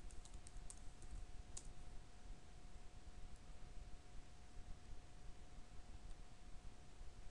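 Someone types a password on a computer keyboard, with a quick cluster of close key clicks at the start and a few scattered taps afterward over a steady background hum.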